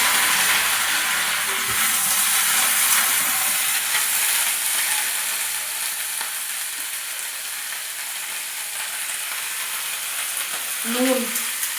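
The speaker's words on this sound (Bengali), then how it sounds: "কাঁচা লঙ্কা দিয়ে নিম পাতা, কচি কচি নিম পাতা ফোড়ন দিচ্ছি" Young neem leaves and green chili tempering in hot oil in a home kitchen, giving a steady, close hiss and sizzle that slowly settles, with a faint clink near the end.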